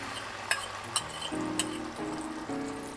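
Calamansi, orange and lemon juice sizzling and bubbling in a pan still coated with fish bits, with a steady frying hiss, a few sharp clinks of a utensil, and some low tonal sounds from the background.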